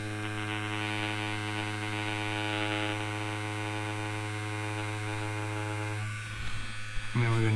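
An Ambition Torped tattoo machine runs with a steady, close electric buzz and rich hum for several seconds, followed by brief clicks and handling noises at the end.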